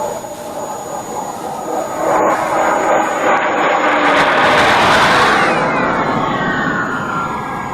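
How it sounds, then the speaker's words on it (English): A jet airliner cruising at about 38,000 feet makes a steady, broad roar that swells and fades over several seconds, heard alone without voices. "You can see how quickly the airplane came into the view and then out of the view."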